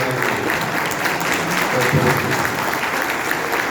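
Audience applause at the close of an evening lecture on labor law, a sustained burst of many hands clapping at steady loudness throughout, close and full, with no distinct voices over it.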